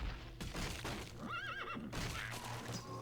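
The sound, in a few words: horse neighing in Warcraft 3 custom map, video game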